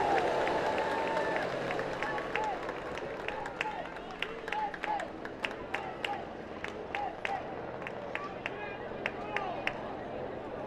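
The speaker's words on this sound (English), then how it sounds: "It's a nice round of applause." Faint, distant applause rolls through the stands during a USA Baseball Olympic tune-up game, sparse claps crackling over a low crowd murmur with faint talk in the background.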